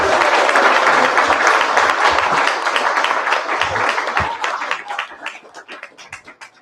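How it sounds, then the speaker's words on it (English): An audience at a panel discussion breaks into enthusiastic applause for the panelists, dense clapping at first that thins out into scattered claps as it fades. "Let us give our panelists a big round of applause."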